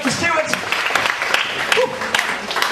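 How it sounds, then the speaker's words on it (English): An audience claps for a volunteer who has just helped with a magic trick, a steady burst of applause with voices talking over it throughout. "Give him a nice round of applause."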